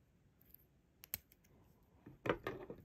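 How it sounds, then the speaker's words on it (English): Beading thread is snipped with small scissors while making teardrop beaded earrings: a few faint, crisp clicks and snips, quiet and close, with a slightly louder cluster of cutting and handling noises near the end. "then I'm going to cut my thread"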